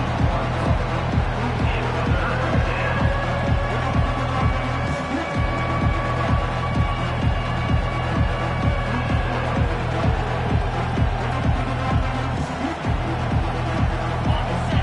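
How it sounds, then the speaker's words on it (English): A stadium crowd in a Texas vs Florida college football video game roars steadily on third down, with a rhythmic, pulsing chant or stomp beat running under a loud, continuous wash of cheering. "Decibels rising as the crowd gets behind this defense on third down"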